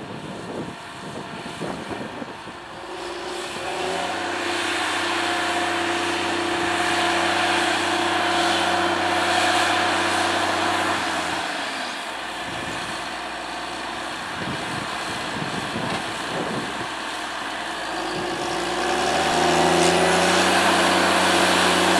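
A Caterpillar Challenger tractor engine drones steadily through a headland turn in a 100-acre field, a loud continuous low hum with a shifting pitch that dips mid-turn and rises again toward the end, with no voices.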